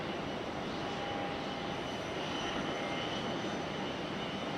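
A jet airliner engine runs steadily at Raleigh Durham International Airport, a constant broadband roar from a distance with a faint thin whine, unchanging through the stretch.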